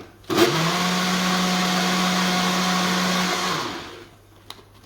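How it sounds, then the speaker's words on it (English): A blender mixing Yorkshire pudding batter whirs loudly and steadily for about three seconds, then winds down and stops, leaving quiet behind. "a blender"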